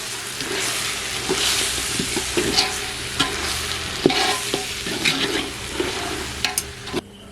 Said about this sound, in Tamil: இப்போ கறியையும் வந்து நல்லா வந்து கலந்து விட்டுடலாம்